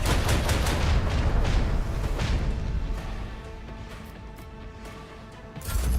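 Torpedoes launching and detonating in the space combat of Rogue Trader: a dense, loud rumble of booming blasts and crackling bursts that gradually eases, then swells again near the end.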